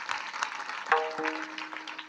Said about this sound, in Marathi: टाळ्या वाजवा जरा बाबा करता एकदा